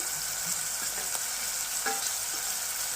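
Ginger-garlic paste sizzles in hot oil in a pan, a close, continuous frying hiss with a couple of light stirring scrapes over a few seconds.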